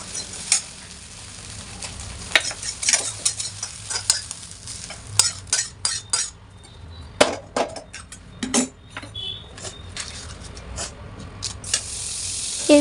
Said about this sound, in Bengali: দুটো ডিম একেবারে ফাটিয়ে নিয়ে একেবারে ঝুরি ঝুরি করে ভেজে নিয়েছি